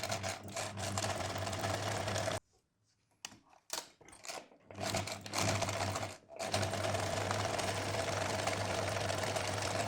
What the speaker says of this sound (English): I'm doing a zigzag stitch over the edge, but of course I leave the opening open.